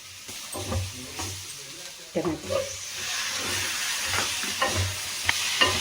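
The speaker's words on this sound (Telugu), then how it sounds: "ఎరగడ బాగా వాడినాక టమాటా వేస్తాం" Onions sautéing in hot oil in a pan ahead of adding tomato for chenagibela chutney, a steady close sizzle and hiss with intermittent stirring scrapes, while a voice talks over it.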